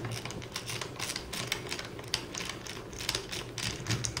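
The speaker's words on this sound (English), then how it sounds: "we're going to take the screws out that hold the motor in" Screws holding the drive motor of a SureShade awning are backed out, producing a rapid, close series of light ratcheting clicks and mechanical ticks at moderate level, with no speech.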